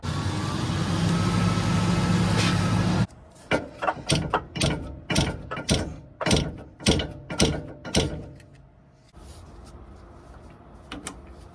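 Ratchet wrench tightening a sway bar link nut on a 1997-2003 Ford F-150, heard as about a dozen close, sharp ratcheting clicks in a steady rhythm after a few seconds of a loud broadband mechanical rush.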